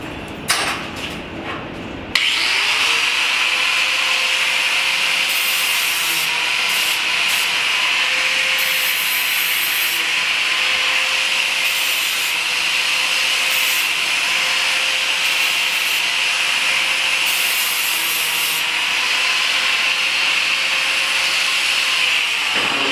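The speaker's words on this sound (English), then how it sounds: "So I gotta grab my grinder real quick." A grinder works on the metal track of a ball-lifter rolling ball sculpture, starting with a sharp rise and then holding a loud, steady, bright whine for about twenty seconds, close up and with no talk.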